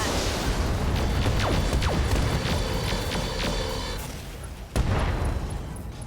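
An ammo explosion erupts in the mech combat game RogueTech, a dense roaring blast with crackling bursts that fades, then a sharp second boom near the end.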